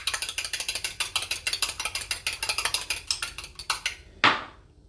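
A whisk beats a cracked egg in a bowl with rapid, regular rhythmic clicks against the sides, followed by a single louder clatter as the whisk is set down.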